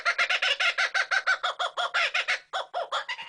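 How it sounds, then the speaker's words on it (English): A rapid run of loud, harmonically rich bird calls, a kookaburra from Australia, repeating in quick rhythmic bursts close by with a short break near the end, alone without talk. "I can wake up every day to the sound of the kookaburra"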